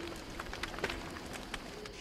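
Steady rain in the survival game Don't Starve: Reign of Giants, a faint continuous patter with scattered soft drop ticks, low in level throughout.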